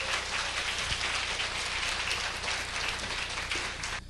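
A hall audience at a university corporate culture lecture claps in a thick, rain-like wash of applause that holds evenly for several seconds, then stops abruptly.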